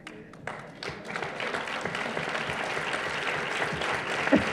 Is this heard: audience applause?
yes